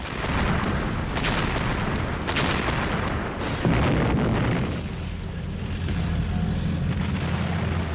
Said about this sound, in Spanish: dispararon al edificio a bocajarro con artillería pesada